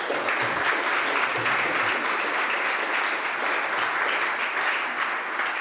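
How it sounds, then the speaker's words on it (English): An audience applauds a conference talk on development status, a dense, steady wash of many hands clapping that holds at an even, fairly loud level throughout without pause. "we can give a little clap to them"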